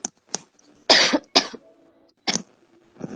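Several sharp coughs and throat-clearing bursts come in uneven clusters, close and fairly loud, with quiet gaps between them.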